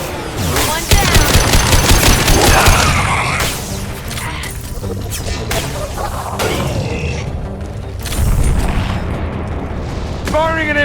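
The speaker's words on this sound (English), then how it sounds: "Firing an impact shot!" Heavy gunfire erupts in the sci-fi shooter Mass Effect 2, with rapid bursts, booming impact shots and blasts of combat noise, loud and close, while voices talk over parts of the action.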